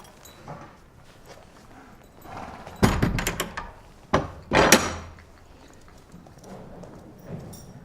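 Horse hooves clop and thunk on a stable yard surface, a few loud clustered strikes near the middle with quieter shuffling between, close by and without talk.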